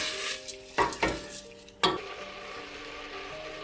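A spoon scrapes and stirs rice porridge in a pot a few times, soft clinks over a quiet low simmering hiss.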